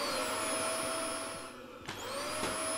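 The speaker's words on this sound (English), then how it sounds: "Vacuum up all these corpses." Vacuum cleaner in the video game Kill It with Fire, a steady high whine that dips briefly and then surges back with a sharp restart, running alone without talk.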